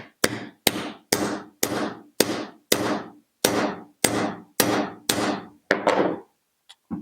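About a dozen sharp, evenly spaced hammer strikes ring out on metal up close, tapping a ball joint into a 1977 VW bus front suspension, then a brief pause and a couple of final taps.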